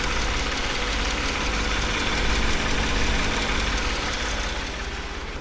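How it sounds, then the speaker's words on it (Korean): A 2013 Hyundai Genesis BH 330 engine idles in a steady, close, full-bodied rumble with an even mechanical tick, holding constant before easing slightly at the end. "엔진 소리도 한번 들어보도록 하겠습니다."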